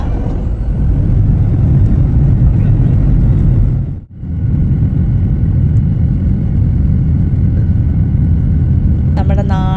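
A loud, continuous low engine roar of an airplane taking off fills the clip, dipping briefly to near silence midway before surging back.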